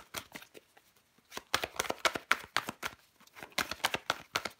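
Tarot cards shuffle and slap onto a table in quick, soft, papery flicks and taps, close and quiet, in bursts with short pauses.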